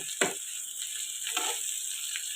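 Garlic chitranna with coriander leaves frying in a pan, giving a steady soft sizzle with a few brief stirring scrapes, close and alone without talk.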